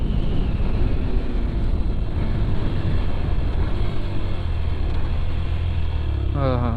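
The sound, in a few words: Yamaha FZS V3 motorcycle engine braking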